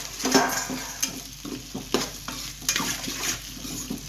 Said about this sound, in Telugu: ఇలా వేసుకొని మొత్తం అయితే కలుపుకుందాము